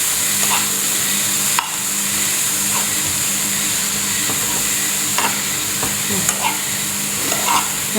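Kerala-style mushroom thoran is stirred in a pan over a steady hiss of cooking, with occasional scrapes and knocks of the spoon against the pan standing out, close and without speech.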